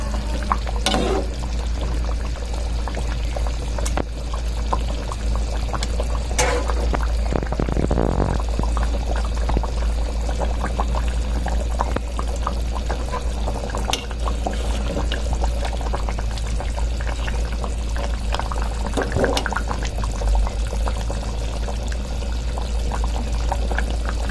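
Water poured into a pot of simmering vegetable curry, a continuous splashing pour over a steady background rumble, with no voices.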